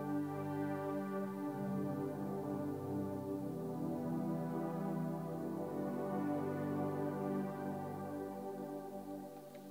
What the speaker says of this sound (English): my soft synth sounds like this